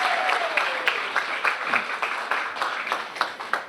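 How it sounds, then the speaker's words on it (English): An audience at a San Jose city council swearing-in ceremony breaks into sustained applause, a dense wash of many hands clapping at moderate distance with a few louder individual claps near the end. "Can we give another hand clap for Victoria?"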